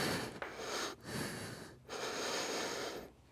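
Deep, slow breaths during a yoga asana sequence with back bends, three long airy inhale-exhale cycles close and fairly loud, with brief pauses between them and no talking.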